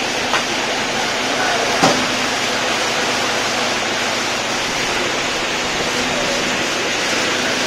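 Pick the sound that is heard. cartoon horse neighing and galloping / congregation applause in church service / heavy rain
heavy rain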